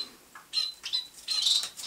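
Fawn English zebra finch, large for its kind, giving short squawks and calls in a few bursts with faint wing flutter, close and fairly quiet.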